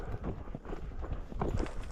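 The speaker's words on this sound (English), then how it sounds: "She just picked each footstep, put her feet down really gingerly" Horse hooves step carefully over uneven ground on a cattle-checking ride, soft irregular thuds close by with no talking.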